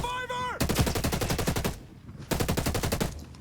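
Automatic gunfire from the video game Ghost Recon: Breakpoint comes in two rapid, loud bursts of shots separated by a brief pause.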